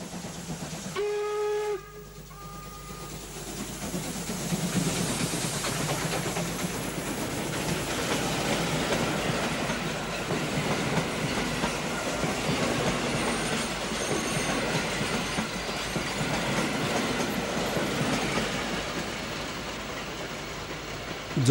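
Steam locomotive 50 35-59 runs with a train from Halberstadt toward Magdeburg, sounding a short steam whistle before a long, steady rumble of rolling wagons with wheel squeal and rail clatter, loud and sustained.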